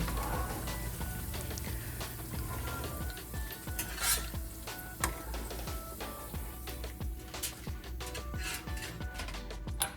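Steady crackling sizzle of plantains frying in oil, with occasional clinks and scrapes of utensils against a pan.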